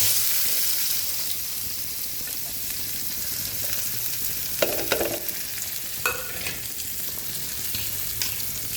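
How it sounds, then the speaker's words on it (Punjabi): Sliced onions sizzle steadily in hot oil with cumin, coriander powder and black pepper as they are stirred together in a pan, with a few sharp scrapes and clinks of the spoon breaking through the constant frying hiss. "ਵਿੱਚ ਹਲਕਾ ਜਿਹਾ ਧਨੀਆ ਪਾਊਡਰ ਨਾਲੇ ਆਪਾਂ ਕਾਲੀ ਮਿਰਚ ਪਾ ਦਾਂਗੇ ਥੋੜੀ ਜੀ ਫਿਰ ਆਪਾਂ ਇਹ ਪਾ ਦਾਂਗੇ ਪਿਆਜ਼"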